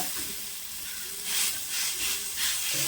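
Onions sautéing with a little salt in a pan for homemade kothu parotta give a steady, close hiss and sizzle that rises and falls in gentle waves, heard alone without talk.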